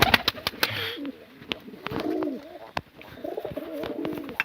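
Pigeons coo in soft, repeated rolling phrases close by, mixed with sharp clicks and flutters.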